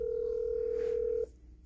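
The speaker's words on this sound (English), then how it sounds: "Me have to call back Jackie" A telephone dial tone hums steadily and loudly for about a second, then cuts off abruptly, leaving only low background noise.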